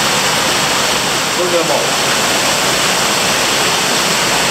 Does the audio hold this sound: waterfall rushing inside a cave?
yes